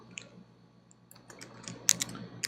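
Quiet clicks of typing on a computer keyboard, a handful of separate light keystrokes at an uneven pace, the sharpest near the end, over a faint background hum.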